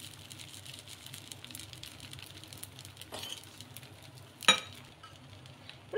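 Leftover rice dosa batter sizzles quietly on a hot pan with a steady, faint crackle. One sharper pop stands out partway through.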